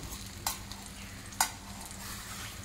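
Butter masala egg fries in a pan with a steady sizzle, and two brief scraping clinks come from the spatula as it is flipped.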